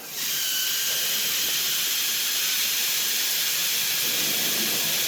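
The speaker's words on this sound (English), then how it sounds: "I'm airbrushing from above and at a fairly low pressure. It's only on about 10-12 psi." Airbrush spraying paint from above at a gentle 10–12 psi onto 1/6 scale Panzer IV tank tracks, producing a steady, close, continuous hiss that starts abruptly and holds evenly.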